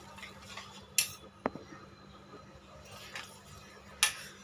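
A whisk clinks against a bowl of semolina cake batter, with a few sharp metallic taps and softer scraping strokes, close and fairly quiet.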